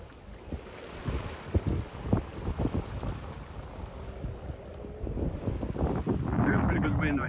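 Wind buffets a sailboat on a coastal cruise, gusting into the microphone with irregular thumps and a building rush, alongside water and boat noise, and a voice speaks briefly.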